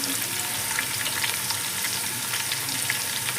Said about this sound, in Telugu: మంచిగా వేయించుకోండి. ఉల్లిపాయ బాగా రెడ్ కలర్ అవ్వాల్సిందే